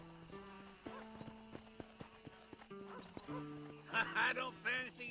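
Horse being broken in a Red Dead video game: clopping hooves and rising whinnies against tonal game music, with louder agitated squeals near the end.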